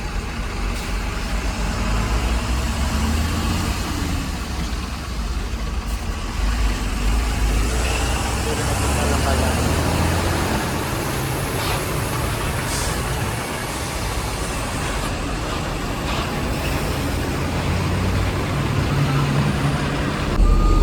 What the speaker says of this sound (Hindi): 1 घंटे से हम यहाँ खड़े हैं, और बहुत लंबा जाम लगा है।